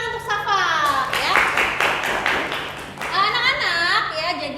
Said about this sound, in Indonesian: tepuk tangan untuk Safa ya